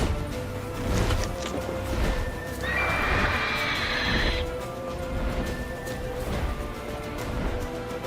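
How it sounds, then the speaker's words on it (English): Horse in The Witcher 3 video game neighs in a sharp whinny midway while hooves clip-clop steadily throughout, close and clear over a low game soundscape. "Run, Roach"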